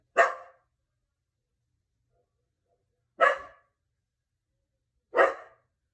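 Dogs barking indoors: three short, separate barks spaced a few seconds apart, clear and fairly close, with silence between them and no talking.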